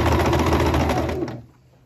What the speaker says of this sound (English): I'm gonna sew just a little bit so you can see what it looks like on the top and on the bottom